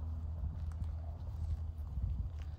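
Horses on a Florida farm walk with soft, uneven hoof clops close by, a low and fairly quiet shuffling rhythm with no talking.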